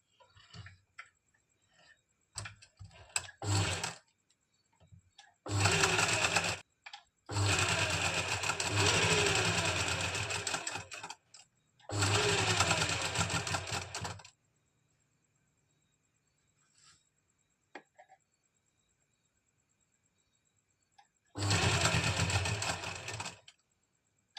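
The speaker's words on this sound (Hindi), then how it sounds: "इस तरह से हम इसमें सिलाई लगा देंगे" A sewing machine stitches pleats on a kurti in several loud, close bursts of fast whirring, separated by pauses with light clicks and handling noise, with a final run near the end.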